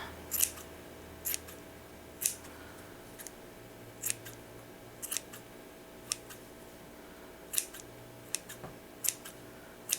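Sharp scissor snips trimming yarn ends on a crocheted monkey critter beanie, about a dozen crisp separate clips spaced irregularly, close and fairly quiet over a faint low hum.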